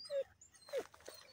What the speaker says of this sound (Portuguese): É o cachorro latindo, né?